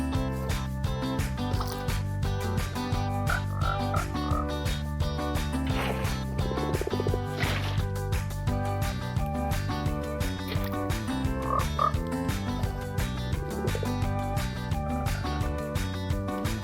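Frogs croak in the Minecraft video game, a dense, rhythmic chorus of repeated croaks that fills the whole stretch over a steady bed of game sound.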